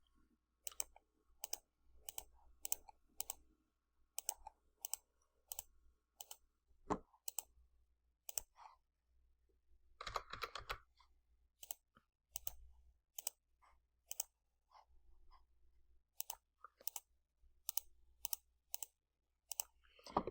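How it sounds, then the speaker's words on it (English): Sharp, quiet clicks from a computer mouse during photo editing come in quick bursts and singles, spaced irregularly across a silent background, with no talking. "So I'm just going to click my right bracket key and I'm just going to start clicking around here."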